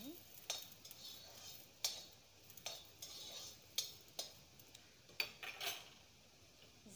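Green chillies dry-roasting in a bare pan with no oil give a faint crackle, broken by repeated sharp clinks and scrapes of a utensil stirring against the metal.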